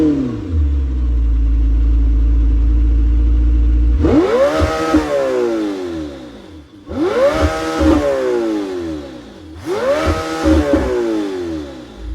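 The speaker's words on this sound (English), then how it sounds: "Despite that this is a V8 hybrid, it still sounds like a V10." A Lamborghini Temerario's V8 hybrid engine idles with a deep rumble, then revs hard three times in quick succession, each blip rising sharply and falling away, loud and close with no talking.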